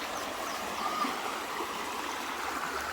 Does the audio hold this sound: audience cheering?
no